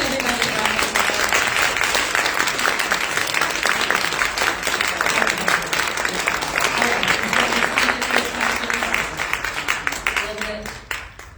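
Sustained audience applause for panelists at a women's organization meeting on trans and queer rights, dense continuous clapping that holds steady before tapering off at the end, with some voices mixed in.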